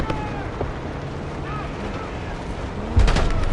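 Gunfire and explosive booms in the Call of Duty Black Ops 6 campaign, a steady rumble of battle with a louder blast near the end, mixed with game dialogue.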